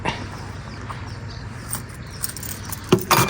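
Car keys jangle briefly near the end, a couple of sharp metallic clinks over a quiet outdoor riverside background at a roof-tent campsite, where a key gets stuck.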